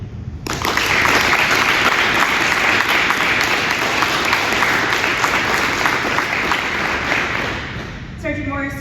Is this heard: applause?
yes